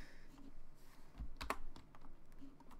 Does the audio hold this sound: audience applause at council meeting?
no